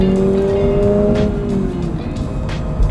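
A Subaru BRZ / Toyota GR86 accelerates hard from about 2,000 RPM, the engine's loud, steady drone climbing in pitch from inside the car under a constant road rumble.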